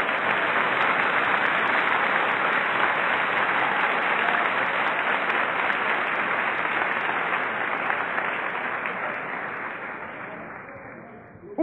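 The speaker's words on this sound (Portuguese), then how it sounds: "Você pode aplaudir o Senhor aqui nessa noite?" A church congregation breaks into sustained, dense applause during an evening service, the clapping steady and loud for most of the stretch before tapering off near the end, with no voices over it.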